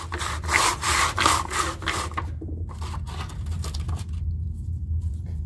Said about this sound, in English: I'm gonna sand this down on 80 grit